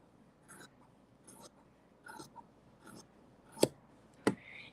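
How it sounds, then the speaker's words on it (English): Scissors snip through a piece of quilting fabric in a series of soft, evenly spaced cuts, ending with two sharper, louder snips close by. "I am going to cut this extra piece off down here."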